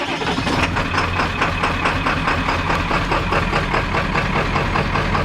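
A 1995 Ford F-350 XL with a Powerstroke diesel idles after a cold start, a loud, steady, rough low clatter with an even pulsing rhythm close by.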